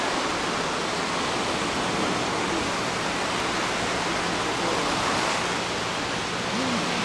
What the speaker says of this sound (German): Das Wasser ist ein bisschen aufgewühlt. Wir haben leichte Wellen.